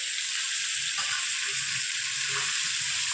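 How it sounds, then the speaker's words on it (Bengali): Mutton curry sizzling steadily in a kadai on the stove, a constant loud hiss of frying with faint clinks and stirring movements underneath. "মাংসটা রান্না করছি যেহেতু কড়াইয়ে"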